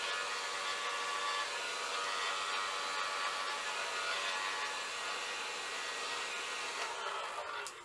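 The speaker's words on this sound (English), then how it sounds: "rather than doing it with the blow dryer, I'll do it with my mini leaf blower." A mini leaf blower dries freshly poured acrylic paint, producing a steady, moderately quiet airy whir that holds constant throughout and tapers off slightly at the very end, with no talking.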